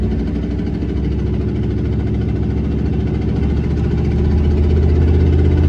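A skid loader's diesel engine rumbles steadily and close while it pushes a truck and trailer up a hill, a heavy vibrating drone that swells slightly toward the end, with no talk.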